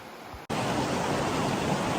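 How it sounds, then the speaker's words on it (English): Creek water rushes in Kings Canyon, a loud steady broadband roar of flowing water heard up close. "Time to cross this creek to the other side."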